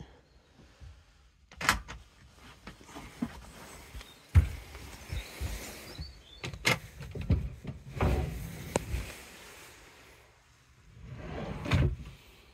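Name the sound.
soft-close drawers in a camper van kitchen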